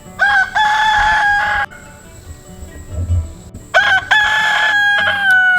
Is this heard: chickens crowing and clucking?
yes